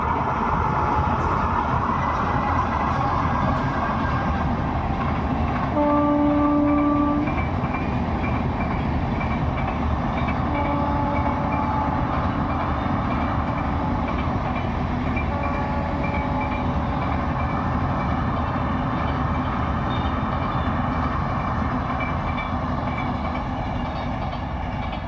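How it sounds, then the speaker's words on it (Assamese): A passenger train rumbles past close by with steady, heavy rolling clatter lasting the whole stretch, with a few brief tonal notes rising above the din. "চাব পাৰে আহি গ'ল আমাৰ ৰেলগাড়ী"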